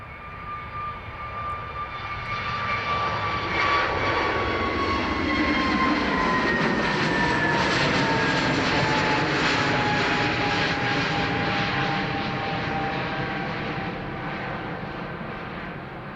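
An airliner departs Dublin Airport, its engines building into a loud, sustained roar that swells and then slowly eases as the aircraft climbs away, with no talk over it.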